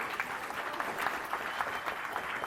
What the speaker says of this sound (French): On peut applaudir Carlos.